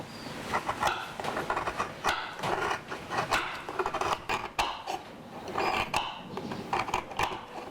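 Palm sugar is cut by hand in a kitchen while making jaje dadar gulung, giving irregular close knocks and chops of a blade through the hard sugar against a board, spaced unevenly with short pauses between strokes.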